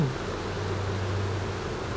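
Honeybees at an open hive in Quebec make a steady, even, low buzz. The drone holds at moderate loudness throughout with no talking over it.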